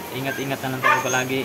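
A dog barks in short yapping bursts, fairly close, inside a house during heavy rain, mixed in with a person talking at the same time.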